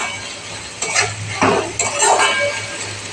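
Onions softening with salt in a cooking pot are stirred, giving scraping utensil strokes and clinks against the pot over a steady low sizzle, with several louder bursts of stirring in quick succession.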